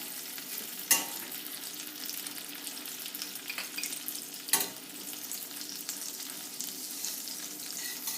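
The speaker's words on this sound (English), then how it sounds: "some olive oil in the pan. Along with some butter." Butter and olive oil sizzle in a pan with a steady, even hiss, broken by a couple of sharp pops. No one speaks.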